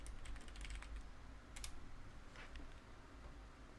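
Quick, light clicking of a computer keyboard being typed on in bursts, fairly close and steady over a low background hum, with no talking.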